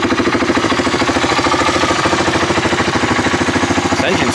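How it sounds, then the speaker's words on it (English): Close, loud idle of a Honda 300 ATV engine, an even, fast chugging pulse that holds steady throughout. "This engine sounds super healthy too."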